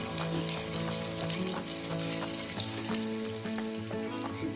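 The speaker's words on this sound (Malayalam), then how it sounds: "ഈ ഉള്ളിയും വറ്റൽമുളകും നന്നായിട്ട് ഫ്രൈ ആയിട്ടുണ്ട്" Onions and whole dried red chillies, stems on, fry in oil with a constant soft sizzle and fine crackling, heard alone and fairly quiet.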